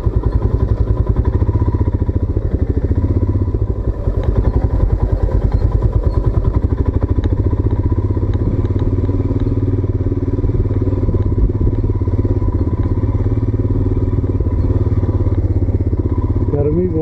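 A Royal Enfield Himalayan BS4 motorcycle riding off-road at Harwan, its engine thumping loudly and steadily up close with some clatter throughout.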